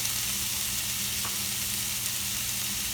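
Half a tomato frying with garlic in a pan gives a dense, constant sizzle that stays loud and even from start to finish, with a faint stir or two and no talking.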